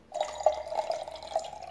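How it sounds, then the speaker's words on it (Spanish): Water runs into a glass jar that already holds oil, a steady close trickle with a few bright drips and splashes over under two seconds, no one talking. "Después le vamos a agregar agua"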